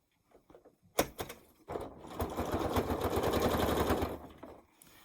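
A sewing machine stitches a folded quilt sashing seam: a few sharp clicks, then a steady rapid mechanical whir for about two seconds before it slows and stops.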